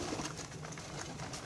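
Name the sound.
pigeons cooing in breeding loft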